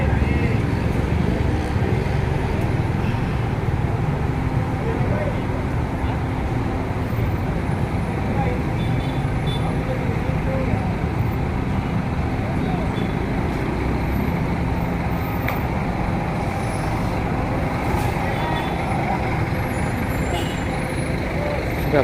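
A Scania bus idles at the Aceh bus pool of PT Putra Pelangi Perkasa in Medan, a steady, loud diesel rumble with traffic noise around, while a voice talks over it.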